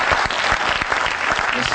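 Church congregation applauding, a dense, close burst of clapping that continues steadily with no pause.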